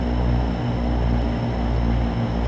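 The twin turboprop engines of an Evektor EV-55 in X-Plane 11 roar steadily in reverse thrust, a loud, even, droning buzz with a low pulsing throb and nothing else heard.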